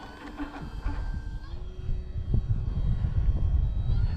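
An OMP Hobby Super Decathlon RC plane flying on a windy day, its electric motor a droning whine that shifts pitch, over rumbling wind buffeting the microphone, with brief speech mixed in.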